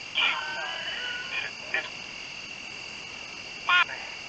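Crickets chirp at night in a cemetery, in short scattered bursts over a faint steady insect drone.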